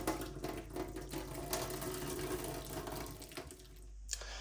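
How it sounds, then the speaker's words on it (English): Water being strained off boiled potatoes into a sink, a steady gushing pour with sputtering splashes that thins out and stops near the end, heard up close without talk. "the potatoes are done, so just gonna strain the water off"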